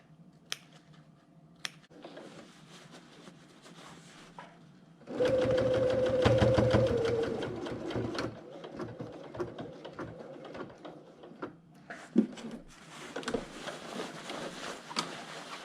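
Sewing machine running a burst of top stitching on a parka, loud and steady for about three seconds, with quieter handling clicks and fabric rustle before and after.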